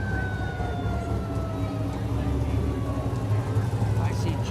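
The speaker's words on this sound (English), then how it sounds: "Oh, I'm hearing some sirens." Sirens from emergency vehicles at a Canada Day parade in Saint Andrews by-the-Sea, a steady wailing tone sliding downward at moderate distance beneath crowd noise and low street rumble.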